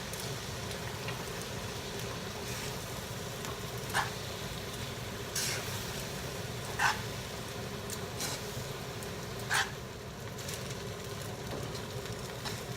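Cooked rice noodles for Filipino pansit being stir-fried and tossed in a pan, giving a steady, soft sizzle. A few brief clinks of a utensil rise above it, and no one speaks.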